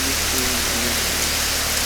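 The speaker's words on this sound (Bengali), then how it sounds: "প্রচুর বৃষ্টি হচ্ছে" Heavy rain pours down in the hills during landslides in a dense, steady hiss, loud and unbroken, with no voices.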